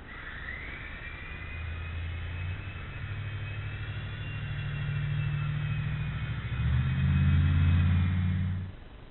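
A Blade MCX radio-controlled helicopter comes in to land, its small rotor whining steadily with a low motor hum that rises and thickens near the end before cutting off.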